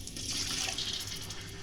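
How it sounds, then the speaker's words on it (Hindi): A little water is poured into a pot of chicken tikka palao as it cooks, giving a steady splashing pour with bright hiss, close and alone without talk. "अब इसमें हम थोड़ा सा पानी ऐड कर देंगे।"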